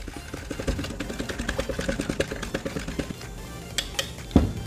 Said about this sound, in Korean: 잘 섞이도록 저어줍니다.